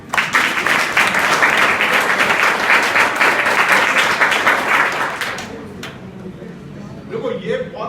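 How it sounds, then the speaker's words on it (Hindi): A school audience at an adolescence education programme in an inter college claps together in sustained, dense applause for about five seconds before it fades into scattered movement and quieter room noise. "है तो पापा वाले को भी ताली बजाओ"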